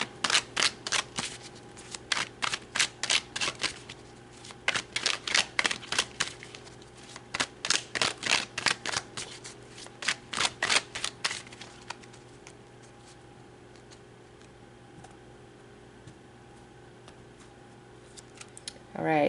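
Tarot cards being shuffled close up in quick bursts of crisp riffling and flicking, with short pauses between bursts, then a quieter stretch near the end where single cards are pulled and laid down.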